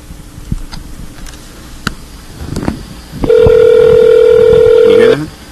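Telephone call tones from a Net2Phone internet phone call played back: a few faint clicks, then a loud steady ringback tone holding for about two seconds before cutting off.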